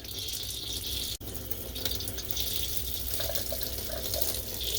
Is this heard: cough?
no